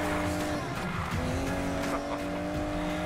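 An Aston Martin DB11 drives in Need for Speed Payback, its engine droning loud and steady with tire squeal and shifting pitch throughout, close and continuous.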